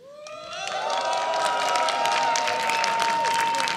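A Polish crowd in an esports arena cheers, shouts and applauds for a team, the roar rising quickly and holding loud and dense, with whistles over it.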